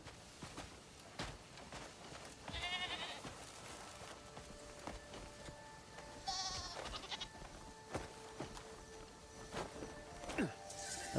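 A goat in the video game Crimson Desert bleats twice, a wavering cry early on and another midway, amid soft footsteps and scattered clicks at moderate distance.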